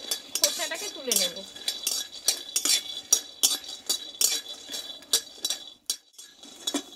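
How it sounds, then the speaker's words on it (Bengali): Peanuts are dry-roasted in a pan without oil, rattling and clinking against the metal as they are stirred, with a quick series of sharp scraping taps at close range. "এটা ভালোভাবে একটু ভেজে নেব শুকনো খোলায়।"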